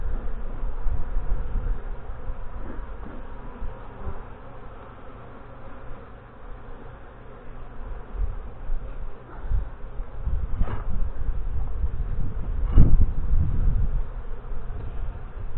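Honey bees at an opened hive during a spring inspection, a dense continuous buzz of many bees close by, swelling louder toward the end with occasional rustles and knocks of frames.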